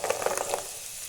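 Green peas tumbling into a hot pan for vegetable rice give a short run of light sizzling pops that fade within about a second, close and moderately loud, with no talking.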